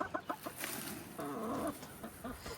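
Chickens cluck nearby in short bursts, followed by a longer drawn-out squawk and a few more soft clucks.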